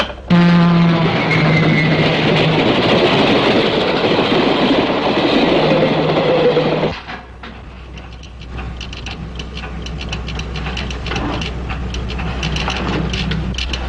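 A train rolls along the rails with a loud, dense rumble and clatter for several seconds, then drops to a quieter rolling clack that carries on to the end, with no voices.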